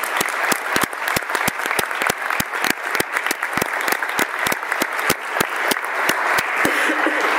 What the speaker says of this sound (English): How about a nice round of applause again for these young men?